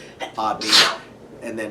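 One sharp, close sneeze bursts out in the middle of a man's speech and stands out loudly against his talking.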